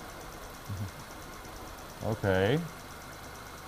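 A car engine misfires while one fuel injector is cut out in a test, rough uneven idle beneath a quiet steady hum, with a short spoken word and a brief louder burst near the end.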